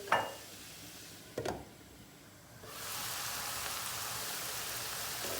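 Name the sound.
onions and peppers sautéing in a pan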